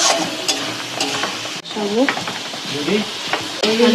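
Potatoes being stirred and sautéed in spice masala for a Bengali egg curry, steady sizzling with repeated spatula scrapes against the pan, close and fairly loud.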